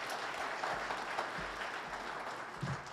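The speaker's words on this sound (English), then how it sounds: "please give our contestants a round of applause and welcome them to the stage" An audience claps steadily, a fairly soft, even patter of many hands throughout, welcoming contestants to the stage at a Young Farmers & Ranchers Discussion Meet.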